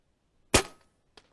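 A JSAR Raptor airgun fires a single sharp, loud shot at a target on a range at an airgun expo, followed by a short decaying ring and a fainter second impact crack about half a second later.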